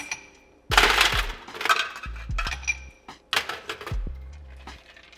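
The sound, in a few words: ice cubes dropped into a glass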